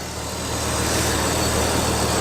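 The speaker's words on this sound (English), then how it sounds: "Engine's running nice and smooth. No more misfiring." RB25 engine running smoothly in a swapped R32 Nissan Skyline, a steady, loud broadband engine drone with no break or misfire, heard alone.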